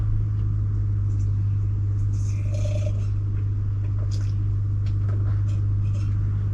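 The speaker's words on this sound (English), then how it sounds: "The choke sticks on it, so it runs at a crazy high idle for way too long" A 1982 Dodge Ramcharger W150 engine at a steady, fast high idle caused by a sticking choke, a constant low drone that holds unchanged throughout.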